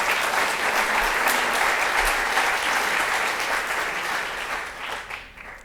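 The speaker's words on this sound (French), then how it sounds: "Vous pouvez l'applaudir, hein." An audience at a physiotherapy conference opening speech claps in sustained applause, dense and steady, then tapers off toward the end.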